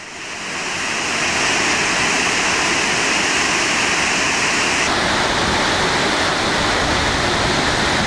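Steady, loud roar of a waterfall pouring into a Norwegian fjord, a dense continuous rush of water heard close up with no talking.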